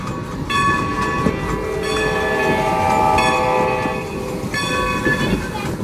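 A heritage locomotive at Strasburg Rail Road runs steadily nearby during a Day Out With Thomas event, with a continuous rumble and bright harmonic whistle or horn tones sounding in bursts through the span.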